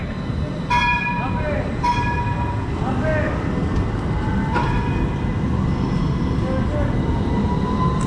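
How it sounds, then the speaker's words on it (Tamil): A tram rolls along a busy Istanbul street, its steady low rumble filling the whole stretch, with a few bright bell-like tones and squeals rising over it and a crowd murmuring in the background. "இங்கே இருக்க ட்ராம் வண்டி பாருங்கள் எப்படி போகுது"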